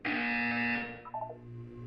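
A loud electronic buzzer in the video game Portal 2 sounds alone, holding a steady harmonic tone for under a second before cutting off, leaving a faint low background hum.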